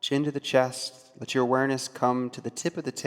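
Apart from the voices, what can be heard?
No distinct noise like a dog, phone or traffic.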